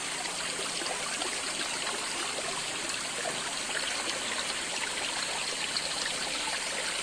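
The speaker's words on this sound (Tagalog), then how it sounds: "Yung batis." A small stream flows at Dreamridge resort, a steady, soft, continuous trickling and rushing of water with no break, fairly quiet and without talking.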